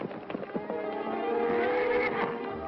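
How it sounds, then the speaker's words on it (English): A wild black stallion that has been running with a band in the back country gives a long, loud, wavering neigh, with a few brief hoof sounds at the start. "What black horse is that? Wild stallion."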